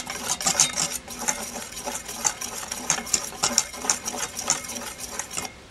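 Bibingka batter with baking powder is mixed in a bowl, with quick rhythmic scraping and clinking of a utensil against the bowl, close and busy, a brief pause near the start, no talking.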